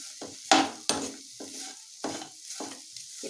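Jaggery and grated coconut are roasted in a pan, stirred in a series of close scraping strokes with a soft sizzle, about eight irregular sweeps with short pauses between.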